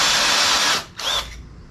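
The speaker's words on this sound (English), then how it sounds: "we need to drill it with the size we need to tap." Power drill boring a tapping-size hole, just past 5/8 inch, in a hot rod pedal, loud steady whine for most of the stretch, a brief stop, then a second short burst of drilling before winding down.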